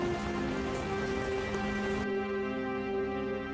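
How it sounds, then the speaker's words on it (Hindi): Heavy rain pours down steadily in a continuous dense hiss that drops to a quieter, duller wash partway through, with no voices. "बारिश भी तेज थी"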